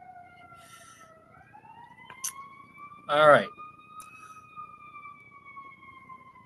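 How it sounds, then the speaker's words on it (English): A wailing siren slides up and holds a high tone, moderately distant, while a person speaks briefly over it. "Let that ambulance go by."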